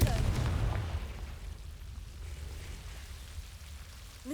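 A Confringo fire spell in Hogwarts Legacy bursts with a loud low boom at the start, then a rumbling roar that fades into a steady crackling wash.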